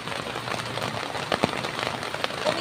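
Steady rain patters on garden plants and surfaces, a continuous dense hiss with a few sharper nearby drops and splashes standing out; no voices.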